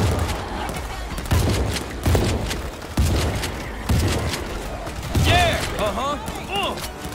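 Gunfire in the zombie shooter World War Z, a run of loud, evenly spaced heavy shots about once a second, close and booming, with game sounds and a voice talking over them.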